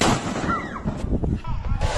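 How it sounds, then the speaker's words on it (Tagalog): Dart bomb firecrackers, a powerful illicit type, go off in several sharp, booming blasts spaced about a second apart, heard close and loud over rumbling background noise. "Dart bomb ang tawag sa malakas na paputok na ito"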